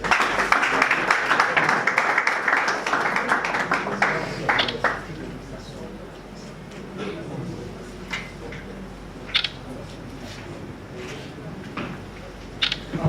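Applause at a political party gathering, a burst of crowd clapping at the start that fades to scattered claps, with someone speaking over and after it.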